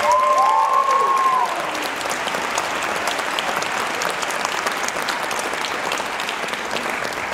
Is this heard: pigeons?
no